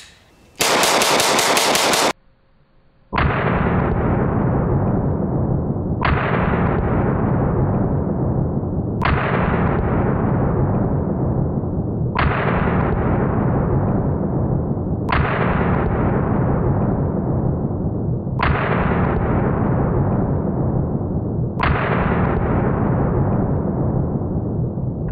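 Glock Model 40 pistol firing at a shooting range, eight loud single shots spaced about three seconds apart, each with a sharp crack and a long decaying echo, following a brief tone at the start.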